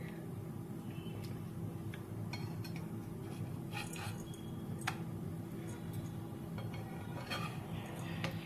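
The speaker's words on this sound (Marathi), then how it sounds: "आता ह्या सातोऱ्या मी उलटून घेते आणि त्याची दुसरी पण बाजू आपल्याला शेकून घ्यायची आहे" Light metallic scrapes and soft clinks of a spatula turning coconut-mango mawa satori on a tava over a steady low kitchen hum, faint and sporadic, with no talking.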